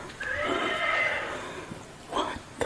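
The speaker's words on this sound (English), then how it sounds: "that's a toy horse thingy. I'm not sure what you call it. Anybody knows? It's making those sounds, right?" A toy horse gives a long, bright neighing whinny, then shorter squealing calls and faint clip-clop clicks. Voices murmur faintly in the background.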